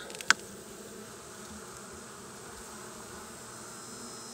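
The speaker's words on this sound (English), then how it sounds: "I have bees up in the top, but there's not many of them." A continuous low buzzing of many honey bees in a hive box fills the space, with one sharp click near the start.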